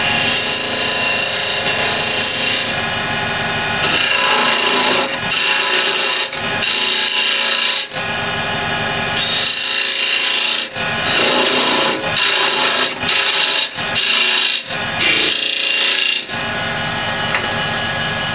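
A lathe spins a walnut burl while a woodturning tool cuts and tapers the end grain, a loud steady whirring hum broken by repeated scraping, rasping cuts of a second or two, close up.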